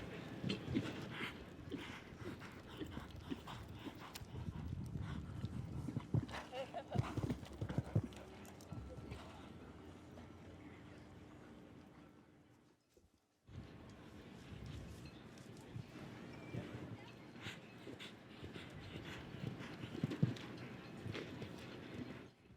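Horse hooves pounding over a show jumping course at a big arena competition, a rhythmic clip-clop of strides with occasional thuds at the fences and a brief pause midway, under steady crowd ambience and a commentator's voice.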